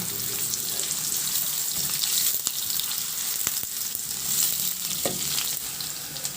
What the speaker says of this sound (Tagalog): Magpainit muna ako ng mantika sa kawali at igisa ko na rin yung luya at bawang